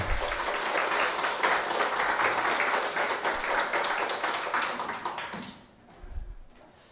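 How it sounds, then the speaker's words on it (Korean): A Korean church congregation claps during a Sunday worship service, a dense, steady burst of applause that fades out near the end, followed by a brief low thump. "우리 하나님께 감사와 영광의 박수 올려드리겠습니다"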